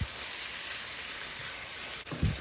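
Fenugreek greens (methi shak) cook in a pan with a soft, even sizzle, broken near the end by a couple of dull bumps as the greens are stirred; no speech.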